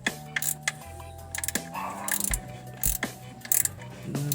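A 3/8 ratchet wrench turns a gear oil plug on a Suzuki Celerio transmission, producing short bursts of quick, close clicking pawl ratchets separated by brief pauses and faint metallic clunks.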